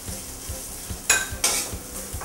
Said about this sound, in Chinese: 先放这个姜丝， 把它爆香。